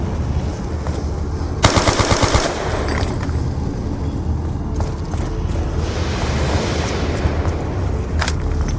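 Automatic weapon gunfire in Black Ops II Zombies on the Origins map: a loud, rapid burst of rattling shots for about a second, then continued game noise and scattered mechanical clanks with no talking.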